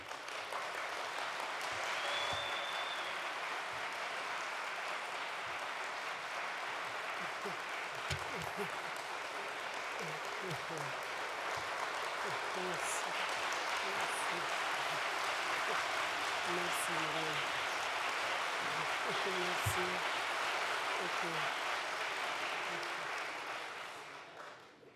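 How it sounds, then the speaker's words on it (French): Sustained audience applause for an international criminal tribunal judge, with an even, dense wash of clapping lasting about 25 seconds, with scattered voices mixed in before it fades at the end. "Donc je vous demanderai de l'applaudir."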